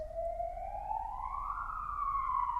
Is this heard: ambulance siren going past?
yes